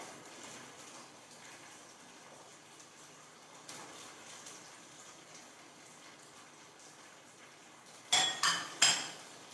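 Fried fries lifted from a pan onto a plate during home vegetarian cooking: a long near-silent stretch, then two sharp, close utensil-on-plate clinks near the end.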